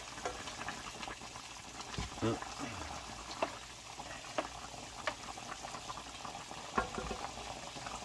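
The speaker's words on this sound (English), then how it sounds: "we've got a nice little rolling boil going. We'll now stir our adobo." Chicken adobo bubbling at a rolling boil in a pot while being stirred, a steady low simmering hiss broken by a few sharp spoon clinks and scrapes, with faint talk in the background.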